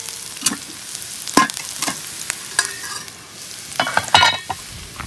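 Buckwheat tipped into golden frying onions and stirred, a low sizzle under repeated loud scrapes and clatters of a spoon against the pan in irregular bursts, close by and without any voices.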